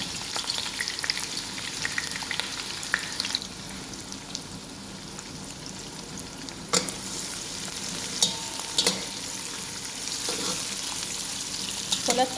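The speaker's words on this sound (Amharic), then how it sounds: "በጋለ ዘይት ላይ ሽንኩርቴን እጨምራለሁ ማለት ነው።" Onions frying in hot oil for Emirati kabsa give a continuous crackling sizzle, with occasional sharper pops and utensil knocks standing out over the steady hiss and no voices.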